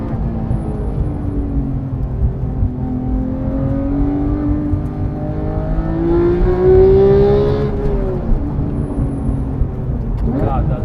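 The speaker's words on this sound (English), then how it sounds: "Those Dundon 200 cell Cata headers. It makes a really unique sound." A 2017-2019 Porsche 911 GT3 (991.2) with Dundon 200-cell catted headers drones and revs with a rising, raspy exhaust note that swells mid-clip before settling, heard from inside the car.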